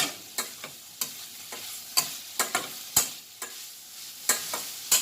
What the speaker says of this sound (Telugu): దీంట్లో మనం కొంచెం ఇట్లా కొత్తిమీర, పుదీనా ఇది యాడ్ చేసుకొని కొంచెం మిక్స్ చేద్దాం